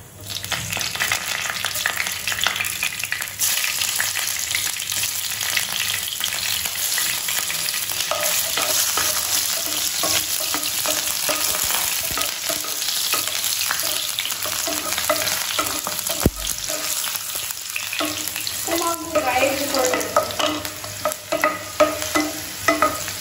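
Green chillies fry in a pan with a steady, close sizzle and crackle, with stirring scrapes throughout, easing into a busier spitting patter near the end.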